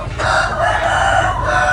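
Close, loud crowing from a King Kong Vietnam rooster, one long drawn-out call that holds steady for nearly two seconds.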